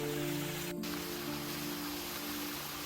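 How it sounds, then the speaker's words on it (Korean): A small stream flows down volcanic rock in a Jeju valley, a steady close wash of water with a brief sharper splash near the start, alone without talk. "중간중간 화산석을 타고 내려가는 물줄기는 아주 시원한 소리를 만들어냅니다."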